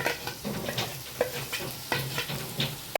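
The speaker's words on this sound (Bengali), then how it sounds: "এই সমস্ত কিছু দিয়ে সুন্দর করে মশলাটা কষিয়ে নেব" Spice paste of garlic, turmeric, Kashmiri chilli powder and salt fries in a pan for Bengali kosha jackfruit curry, with a steady close sizzle broken by repeated scraping stirs of the spoon against the pan.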